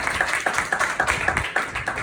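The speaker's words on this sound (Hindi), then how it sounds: "तो एक बार जोरदार तालियां" A congregation at a Sunday church service clapping in a quick, fairly even rhythm, moderately loud and close, with no talk over it.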